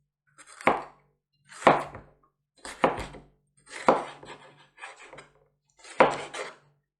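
A knife chops peppers on a cutting board in six crisp, evenly spaced strikes about a second apart. Each one is close and distinct, with silence between the cuts and no voices.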